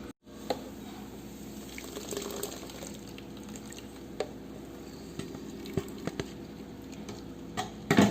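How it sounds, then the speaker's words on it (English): Carrot ginger juice being strained out after blending, a soft continuous trickle and patter of liquid with occasional small clinks and taps, close but fairly quiet. "We are done blending, so let me remove the chaff. Let me extract the juice now."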